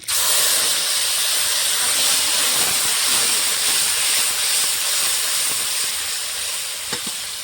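Dried red chili paste hits hot oil already seasoned with bay leaf, dried chili and whole cumin for a Bengali rohu fish curry, bursting into a loud, close, steady sizzling hiss that eases slightly toward the end, no talk.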